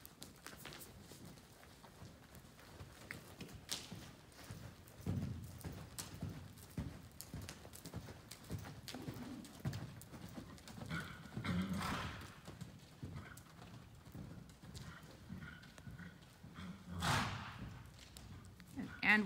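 A horse cantering during flatwork and cross-rail schooling, its hooves beating a steady close rhythm throughout, with a snort or whinny at moments and a rider's voice occasionally giving commands.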